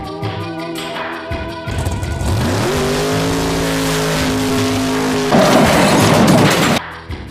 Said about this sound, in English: Brad grumbled into the parking lot of the Towers in his 1975 silver Camaro